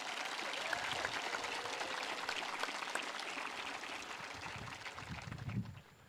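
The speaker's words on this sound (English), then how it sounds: "Please give them a well-deserved round of applause." An audience at a high school graduation ceremony applauds with steady, many-handed clapping that sounds fairly distant and soft, then tapers off near the end.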